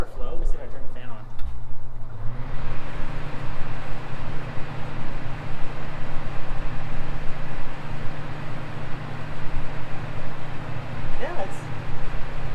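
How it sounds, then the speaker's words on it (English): A portable evaporative cooler's fan motor kicks on after a couple of seconds, settling into a steady droning hum with a faint rattling whir that continues to the end. "Let me see if I turn the fan on."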